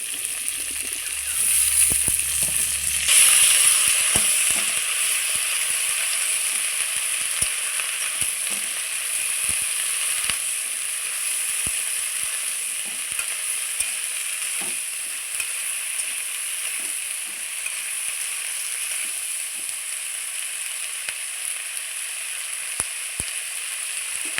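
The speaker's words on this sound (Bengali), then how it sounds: "এবার আমি দিয়ে দিচ্ছি কেটে রাখা পেঁয়াজ ফুলি" Chopped onion greens frying with half-fried potato and cauliflower in a pan, a steady hissing sizzle with a louder burst as they go in, then a long even crackle and occasional stirring.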